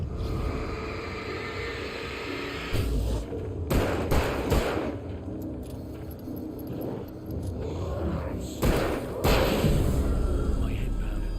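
Gunfire in the action game Alan Wake Remastered: a few loud, sharp shots burst out in separate clusters over steady game ambience, with a dull thud or two between them.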